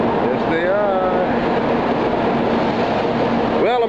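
A Japanese bullet train runs with a loud, steady rumbling roar inside the carriage, with faint rising and falling whistle-like tones drifting over the constant noise.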